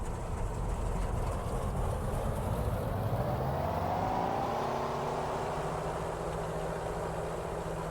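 Skyraider aircraft in a flight game running its piston engine up to full power for takeoff, a dense continuous roar whose pitch swells and climbs midway, steady and loud with no talk over it.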